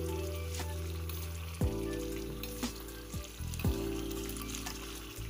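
Neem paste frying in oil until it darkens and burns, giving a steady close sizzle with a few soft pops and clicks over a low constant hum.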